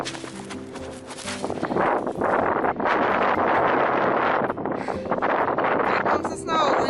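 Wind gusts blow across a snowy hiking trail in Dixie National Forest during a snowshoe day hike. A loud, steady roar of rushing air and microphone buffeting rises after a brief quieter opening and continues close and unbroken.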